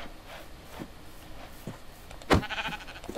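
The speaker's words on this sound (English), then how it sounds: "I'm wrecking these sheep." A few short sheep bleats in Minecraft sound at intervals over quiet background, the last one louder and closer.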